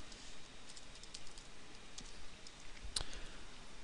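Typing on a computer keyboard with a faulty P key, heard as a quiet, scattered series of soft clicks over room noise, with one sharper tap near the end.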